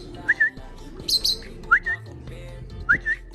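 A lovebird gives bright, clear chirps in three paired bursts, near and distinct, with a low rumble of background noise underneath.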